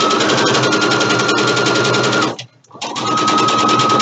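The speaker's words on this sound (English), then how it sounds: "stitch the other long edge right down" A sewing machine stitches along the long edge of a fabric headband, a steady loud mechanical whir that runs continuously, stops briefly for a moment of near quiet, then starts again at the same pace.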